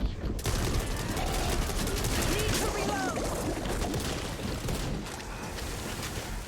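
Heavy, continuous gunfire from the video game Back 4 Blood, a loud, dense barrage of overlapping shots with no break, under a voice talking.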